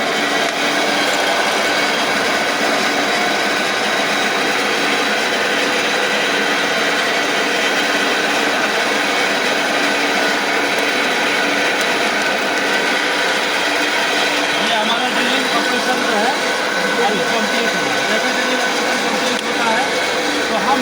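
A drilling machine runs steadily in a workshop, a continuous broadband whirring and grinding drone that stays loud and unchanging throughout, with faint voices underneath.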